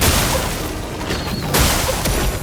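An attack explosion skill goes off in Clair Obscur: Expedition 33, a loud, dense burst of booming noise with a sharp crash near the middle, filling the short moment without talk.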